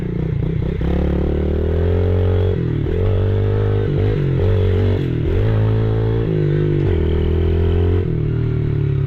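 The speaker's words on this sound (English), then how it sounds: "We'll do the pit bike loop." A pit bike ridden on a loop track in Chinchilla, Queensland: a close, loud small engine revving continuously, its pitch rising and falling with throttle and gear changes, with some clatter and no talk.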